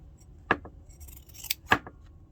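Scissors snip the fabric corners of a child's sewn wallet close to the stitching. There are two sharp, close cuts about a second apart, each with a short metallic after-click, against a quiet background.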